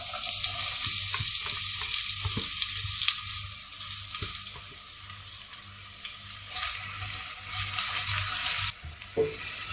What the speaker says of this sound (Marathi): तेल तापले तशें आमकां तातूंत कांदो घालपाक जाय